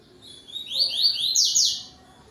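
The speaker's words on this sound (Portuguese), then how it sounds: "O passarinho canta para outro." A double-collared seedeater (coleiro) sings outdoors at dusk, a bright run of rapid, repeated high chirping notes that rises and fades over about two seconds, close and clear over a quiet background.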